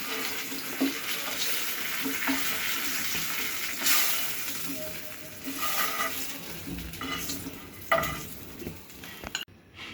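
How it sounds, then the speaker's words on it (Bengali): Eggplant slices fry in a pan as they are turned over, a loud close sizzle with bursts of crackle and spatula scrapes, rising sharply around the turns and cutting off abruptly near the end, with no voices. "বেগুনগুলিকে এভাবে উল্টে পাল্টে আমি ভেজে নিচ্ছি"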